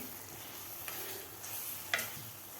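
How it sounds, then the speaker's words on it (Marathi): Banana pieces roast in ghee for sheera, giving a soft, steady frying hiss, with a couple of faint clicks from a spoon near the middle. "आपल्याला तुपामध्ये केळी भाजून घ्यायची आहे"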